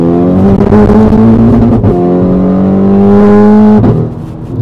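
A car engine revs hard up close, pitch climbing steadily through the gears, with a couple of quick gear-shift breaks.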